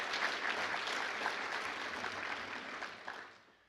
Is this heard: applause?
yes